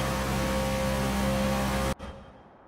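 A 1989 Camaro Z28 IMSA GTO race car at Daytona Road Course in a racing video game, its engine giving a loud, steady, droning roar for about two seconds before cutting off abruptly into a brief fading tail.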